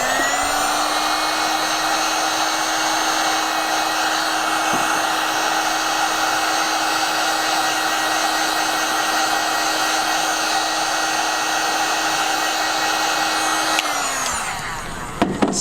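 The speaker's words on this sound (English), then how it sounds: "Now, you can just heat this Warbla up with your heat gun again." A heat gun blows steadily on Worbla thermoplastic for costume making, a loud, constant close whooshing hum with a fixed motor tone that runs unbroken for about fourteen seconds before switching off.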